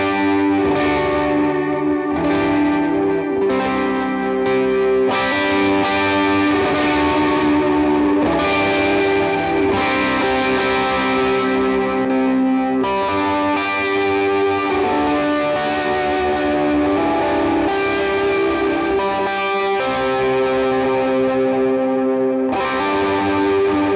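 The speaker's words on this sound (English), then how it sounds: "So this is what my overdrives sound like." Heavily distorted electric guitar through stacked overdrive pedals playing sustained chords and riffs, thick layered overdrive with a chorus shimmer, loud and continuous throughout.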